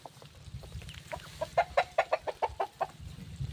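Chickens clucking in a quick run of short, rhythmic calls, fairly close, over a low steady rumble.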